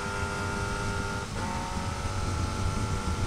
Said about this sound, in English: Whenever I let in my clutch, I'm going to blip and downshift all at the same time.